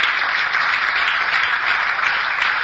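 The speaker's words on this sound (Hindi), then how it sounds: "तो तालियां बजाना घाटे का सौदा नहीं है।" Seminar audience applauding, a dense, even roar of many hands clapping together, sustained and fairly loud with no talk over it.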